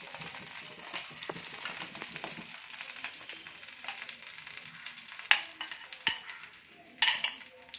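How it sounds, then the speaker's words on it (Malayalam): A masala omelette mixture fries in a pan over a lowered flame, giving a steady crackling sizzle with scraping stirs and a few sharp clinks toward the end. "ഫ്ലെയിം കുറച്ചിട്ട് ഓംലെറ്റിൻ്റെ കൂട്ട് ഒഴിച്ച് കൊടുക്കാം."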